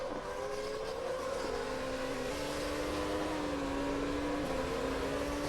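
A 2008 GP2 Series race car engine at a race in Spain holds a steady, droning whine with small pitch shifts throughout, heard from onboard with no talking.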